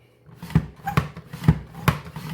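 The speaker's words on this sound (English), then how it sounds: "Thin as your mandolin will go without basically chopping them to pieces because you don't want that." Potato sliced thinly on a mandoline slicer for homemade chips, four evenly spaced crisp strokes, close and moderately loud, with no talking.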